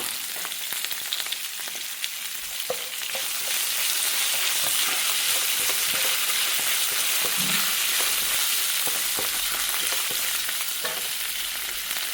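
Green chillies and curry leaves frying in hot oil in a pan, a loud, dense, continuous crackling sizzle with scattered pops and spatters, heard close with no talking.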